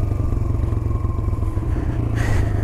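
A motorcycle engine runs steady and loud close by, its low throbbing rumble continuous throughout, with a slight rise in higher noise near the end as the bike pulls away.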